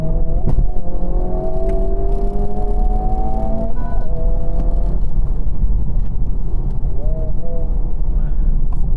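A Honda Civic Type R FL5 on KW ST suspension brakes hard on a wet, puddled race track, its engine tone falling as it slows, with steady wind and tyre noise. Someone talks over it throughout.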